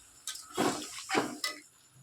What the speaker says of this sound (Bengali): এবার এটার মধ্যে একটু জল ঢেলে দেব দেখো